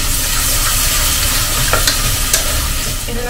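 Onion frying with ginger garlic paste in a pan, a loud, close, continuous sizzle with steady stirring and a few scrape accents, no voice over it.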